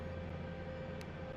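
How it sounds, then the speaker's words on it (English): Second turbine engine of an AH-64 Apache helicopter spooling up in the DCS simulator, a continuous loud drone and whine with steady tonal hum, brief and close, without speech. "My second engine's coming up."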